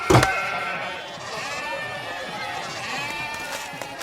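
A goat bleats on a walk with people, its wavering cries rising over ongoing talk in the background for a few seconds.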